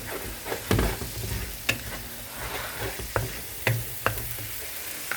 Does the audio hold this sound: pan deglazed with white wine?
yes